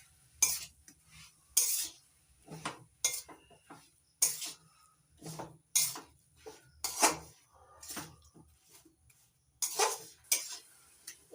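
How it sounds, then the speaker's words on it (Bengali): Coconut and jaggery filling being stirred in a pan for jackfruit pithe: repeated scraping strokes of a spoon against metal in an irregular rhythm, close and fairly faint, with quiet pauses between strokes and no voices. "এবার মিডিয়াম আছে নাড়াচাড়া করে পুরটা তৈরি করে নেব।"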